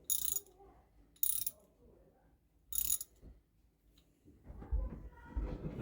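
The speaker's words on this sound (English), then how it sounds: "we have now our 3/8 socket. We're going to put this on here. I'm just going to tighten it up" A ratchet with a 3/8 socket tightens a foundation tie rod in a leaking hole, giving three short, crisp bursts of clicking separated by pauses, close by, and then duller scraping and handling noise.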